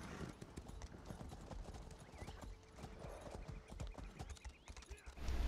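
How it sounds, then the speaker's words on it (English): Horses in the video game The Elder Scrolls Online, steady rhythmic hoofbeat clip-clops from several animals during a PvP fight, with occasional whinnies, continuous and moderately close. "We got a lot of horsies. We can have them stomp on its head."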